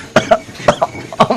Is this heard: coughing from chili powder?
yes